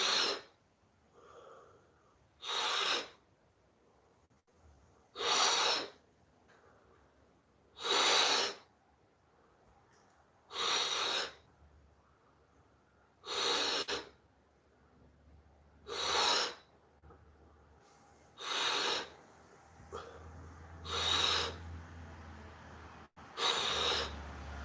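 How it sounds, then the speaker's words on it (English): Wim Hof breathing exercise in a yoga session, with about nine deep, forceful breaths repeating at an even pace a few seconds apart, each a loud, close rush of air with quiet gaps between. "Breathing fully in, and out."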